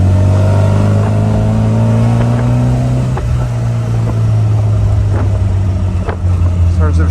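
An Austin Healey Bugeye Sprite's engine drones loud and close, the tone dropping as a downshift comes through around midway, then settling into a steady lower hum. Someone speaks over it.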